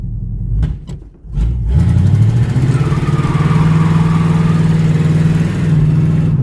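Ford Mustang budget build on first start, its engine revving hard into a tire burnout on cracked tires. Several short bursts come first, then a loud, sustained engine roar and tire drone that hold steady close by.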